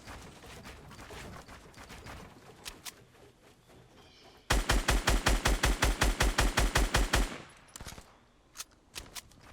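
Fortnite Battle Royale gunfire: after scattered quieter shots, a rapid burst of about twenty evenly spaced, loud, sharp automatic rounds lasts roughly three seconds, followed by a few isolated shots.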